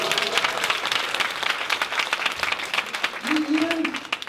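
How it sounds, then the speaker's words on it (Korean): A conference audience in Gwangsan-gu, Gwangju applauds, with dense clapping from many people that swells and then thins. A voice speaks briefly over the applause near the end. "큰 박수를 부탁드리겠습니다"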